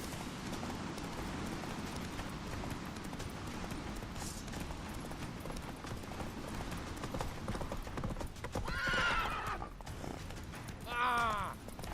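Horse Roach in The Witcher 3 gallops with steady clip-clop hoofbeats under continuous game ambience and talk, joined near the end by a couple of brief whinny-like calls.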